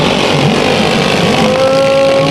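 Race cars roar away at the green flag of a heat race at Bakersfield Speedway, a loud, dense engine din with rising revving tones as the pack accelerates.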